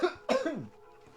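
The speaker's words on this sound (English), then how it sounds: "I have to cough." A single throaty cough, close and fairly loud, with a short rough burst that trails off into quiet.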